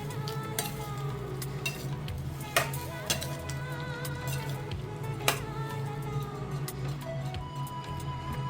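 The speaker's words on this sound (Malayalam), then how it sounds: "കടലയിട്ട് ഇളക്കുക." Chickpeas stirred into a pot of boiling masala curry, with a steady sizzling bubble under scattered clinks and scrapes of a spoon against the pan, close and continuous with no talk.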